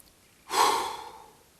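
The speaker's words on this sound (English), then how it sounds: "It's kind of like the hard exhale" A single hard, forceful exhale from a breathing drill, close and alone, rising sharply and trailing off over about a second.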